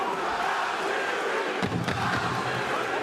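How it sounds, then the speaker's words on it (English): Boxing arena crowd in Brooklyn at an Algieri versus Khan fight, a dense, steady roar of many voices rising into rhythmic chanting of a fighter's name, with a sharp thud partway through. "there, if I'm hearing it correctly, is the Algieri chant from this Brooklyn crowd"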